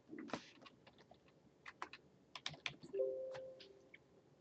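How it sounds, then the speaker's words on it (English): Typing on a computer keyboard while drafting a plate in CATIA 3D Experience, a quick irregular run of light key clicks close by and quiet, followed by a short electronic tone. "Type in my initials."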